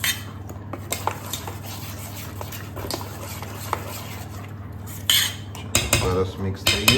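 Rava dhokla batter mixed in a bowl with a spoon: steady clinking and scraping strokes against the bowl, with a louder burst of clattering toward the end.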